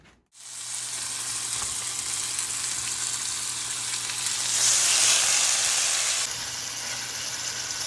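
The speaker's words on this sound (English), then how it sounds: "take this chicken, sear it first in this pot" Chicken sears in a pot with a steady, close sizzle that swells louder for a couple of seconds as more meat hits the hot surface, then settles back to a constant hiss.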